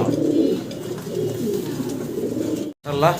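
A pair of Hungarian House pigeons, a male and a female, coo in soft, low, repeated calls that run steadily through the moment, fairly close, before a brief silence and a last coo.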